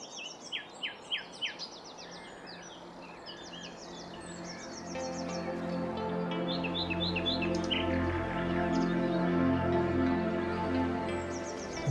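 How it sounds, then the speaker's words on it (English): A nightingale sings from deep in a tree near a lake, giving a few sharp repeated whistles and then bright, varied phrases over a steady hum of background noise. Fairly near and clear, with no talk. "I just managed to locate the nightingale deep in this tree."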